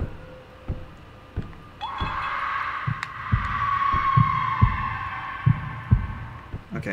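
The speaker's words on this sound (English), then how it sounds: "Okay, heartbeat." A steady, deep heartbeat thuds at an even pace in the horror video game Lazaretto, close and prominent over a rising, droning hum.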